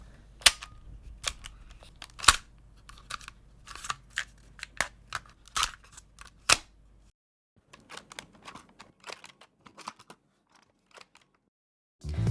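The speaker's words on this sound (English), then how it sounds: "here's an example of me using an old handheld cassette recorder as gun handling" Sharp plastic clicks, snaps and rattles come in irregular bursts up close, like a weapon being cocked and handled, then quieter fumbling clatter follows; an old handheld cassette recorder handled as gun foley.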